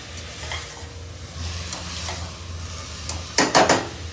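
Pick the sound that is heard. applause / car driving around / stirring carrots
stirring carrots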